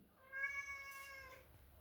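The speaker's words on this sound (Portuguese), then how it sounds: "foi soltar o gatinho que está miando" A kitten meows once, a drawn-out, rising and falling cry that is clear and fairly close against a quiet room.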